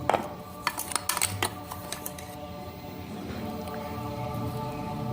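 Mango pickle stirred together with fenugreek powder in a metal vessel produces a few close clinks and scrapes at the start, then settles into a low, soft mixing rustle.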